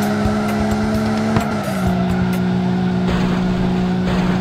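Taxi car driving in the Extreme City Taxi Car Stunt video game, a steady engine drone with a shift in pitch partway through and faint tire noise, continuous and close with no talk.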